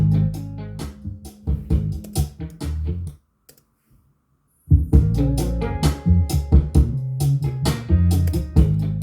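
A podcast background music beat plays with punchy, regular percussive hits over a bass line, breaking off into a short near-silent gap before the beat returns at full, steady loudness.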